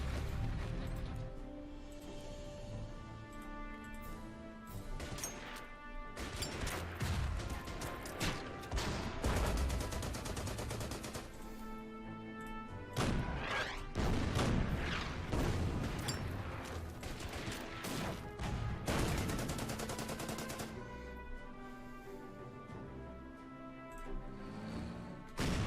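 Artillery shelling and gunfire in the World War II strategy game Order of Battle: dense bursts of booming blasts and crackling shots over a steady musical score, loud and continuous.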